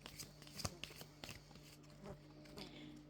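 Oracle cards are shuffled by hand in soft, papery bursts with light taps, close and quiet over a steady low background hum.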